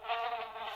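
A housefly buzzes close by, a steady droning whine that wavers slightly in pitch and loudness for under a second, heard alone.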